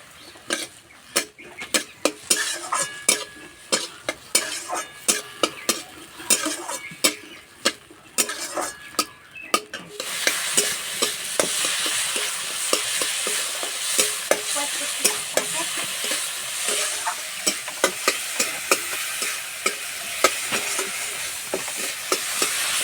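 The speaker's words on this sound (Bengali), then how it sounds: "টমেটো ভাজা হয়ে গেছে, এবার নামিয়ে দেবো।" Tomatoes with turmeric frying in a pan: sharp, regular scrapes and taps of a spatula stirring against the pan, then a louder, steady sizzle with continued stirring clicks over it.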